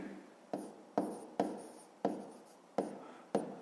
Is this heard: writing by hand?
yes